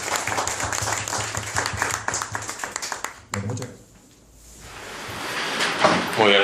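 Audience applause at a book presentation event in Spain, a dense burst of many hands clapping for the first three seconds, then fading into murmur and room noise.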